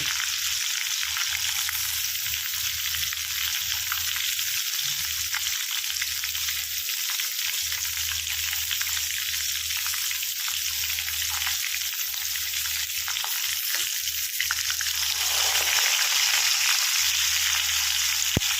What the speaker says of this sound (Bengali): এগুলো একবারেই দিয়ে দেবো কিন্তু ওগুলো ভালো করে ভেজে নেবো